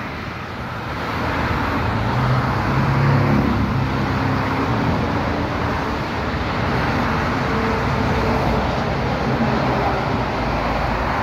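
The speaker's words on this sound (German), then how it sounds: "Ah, da kommt der schöne Scania," A Scania truck passes on the A5 motorway between Zeppelinheim and Frankfurt am Main, a loud, steady roadway roar that swells slightly and holds for about eleven seconds, with no talking.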